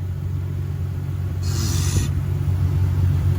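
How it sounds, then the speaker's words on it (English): The blower motor of a salvaged 2000 Acura Integra GSR with a B18C1 engine runs on high, a steady low droning hum close by, with a brief airy hiss partway through. "We got blower motor. Turn it on high."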